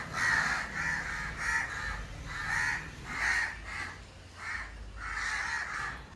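A crow caws in a long series of harsh, evenly spaced calls that sound fairly close and loud, with nothing else breaking in.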